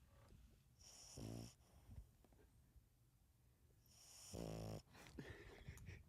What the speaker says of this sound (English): we have to let you guys hear him snore real quick